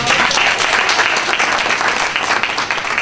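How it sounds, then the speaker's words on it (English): A round of applause from an audience at a diversity and inclusion week event, a thick, loud, continuous wash of many hands clapping together. "Give a round of applause."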